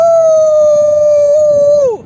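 A single long wolf howl holds a steady pitch for nearly two seconds before sliding down and fading, loud and clear over faint background noise in misty Kaz Mountains forest country.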